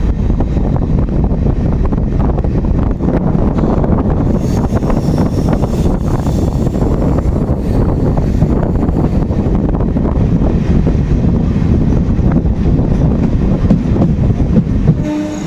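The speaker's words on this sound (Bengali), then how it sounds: "ছেড়ে দিল বেলিয়াতোর থেকে আমাদের ট্রেন" A new MEMU local train pulls away from Beliatore on the Purulia–Howrah line, giving a loud, steady rumble with rhythmic wheel clatter and wind buffeting the microphone throughout.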